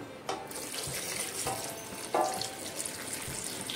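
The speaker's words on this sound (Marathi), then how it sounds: "सगळ्यात शेवटी आपण यामध्ये घालूया पाणी" Water runs from a tap into a pot in a steady hiss, with a few clunks of the pot being moved under the stream.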